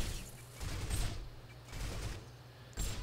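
Video game gunfire in From Russia With Love sounds as a few muffled bursts and bangs spaced across a few seconds, the loudest sharp crack near the end, over a low rumbling background.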